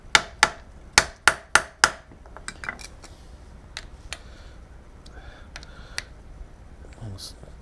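Light metal taps on a milling machine table clamp being snugged down, a quick run of five or six sharp, ringing hits close by, then scattered softer knocks and clinks against low shop noise.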